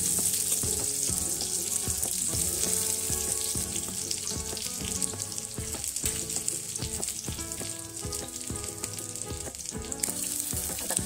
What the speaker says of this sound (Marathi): कांद्यावर थोडा तेलावर परतवून घेऊ